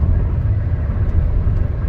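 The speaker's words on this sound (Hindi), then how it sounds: "अभी गाड़ी 98 की स्पीड पे चल रही है" Inside a 2020 Honda City ZX petrol sedan with manual gearbox, cruising at 98 km/h on cruise control: a steady low engine and road rumble with continuous tyre and wind noise, fairly loud and unbroken, no talk.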